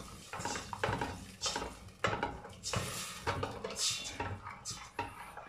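Risotto rice with fresh fava beans stirred in a pot with ladlefuls of broth, a continuous wet scraping and swishing with soft clinks of the spoon, close and fairly quiet.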